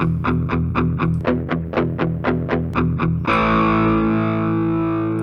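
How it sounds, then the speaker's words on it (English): Electric guitar played through a homemade box amplifier, distorted and loud, with a run of about a dozen rapid picked notes followed by a sustained ringing chord carrying a nasal, whining flutter-echo tone. "That's the sound flutter echoing inside that box."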